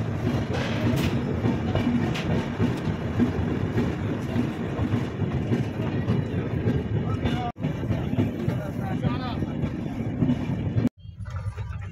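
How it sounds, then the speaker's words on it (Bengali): The 12809 Mumbai CSMT to Howrah Mail via Nagpur pulls out of Bilaspur, a steady loud rumble of rolling wagons with faint clatter filling the whole stretch, broken by two brief sharp dropouts near the end. "বিলাসপুর থেকে রওনা দিল ট্রেন, 15 মিনিট লেট চলছে এখন।"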